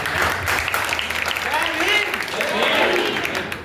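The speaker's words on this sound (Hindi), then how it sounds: "जोरदार तालियों से स्वागत है।" A seated audience at a community hall ceremony honouring high-scoring students breaks into loud, sustained applause, a thick wash of clapping that stays strong the whole way, with voices mixed in.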